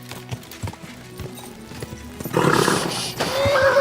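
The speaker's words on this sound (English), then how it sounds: "Easy. Good horse." Horse hooves clip-clop at a steady pace in the medieval game Kingdom Come: Deliverance II, followed by a louder burst of rushing motion and a high whinny-like cry near the end.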